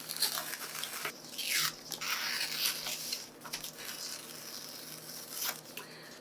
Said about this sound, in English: basically you just wanna carefully rip all the way around without ripping your transfer, just like this